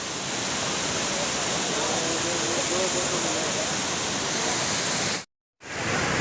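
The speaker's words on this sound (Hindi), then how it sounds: "देखिए रास्ते में कितना प्यारा झरना हमें मिला है गिरता हुआ।" A rain-swollen mountain waterfall on the Kedarnath trek roars as a loud, steady, hissing rush, with a faint voice buried beneath it and a brief cut near the end.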